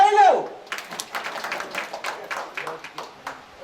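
Audience clapping at an Amulya Herbs company gathering, scattered hand claps repeating steadily after a brief voice at the start, moderately loud in a room.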